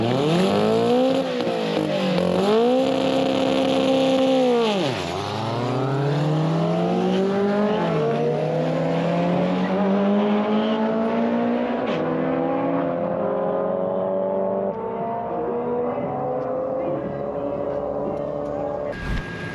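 A Haltech drag car makes a pass, its engine revving hard through several sharp upshifts with rising and falling pitch, loud at first and then fading as it pulls away down the strip.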